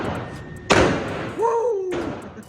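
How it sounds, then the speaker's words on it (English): A double-barrel shotgun goes off with both triggers pulled at once, a single sharp loud blast followed by a brief ringing tail, with a voice-like tone afterward. "Double trigger shotgun, man."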